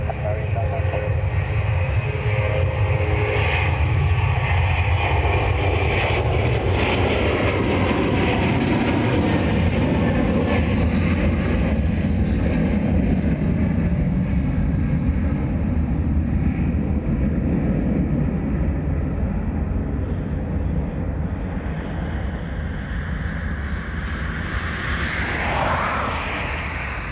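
Ryanair airliner jet engines roar loud and steady at Dublin Airport, a broad rough-sounding rush that holds for nearly half a minute, with a thin rising whine near the end.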